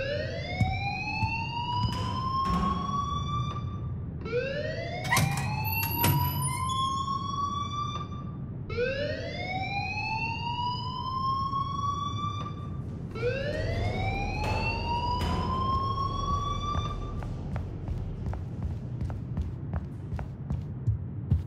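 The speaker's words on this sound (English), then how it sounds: "please turn off that alarm" A school alarm in the video game Life is Strange wails in rising sweeps, about one every four seconds, repeating steadily at moderate volume over a low background hum.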